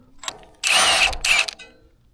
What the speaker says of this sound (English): and then we get the impact to it.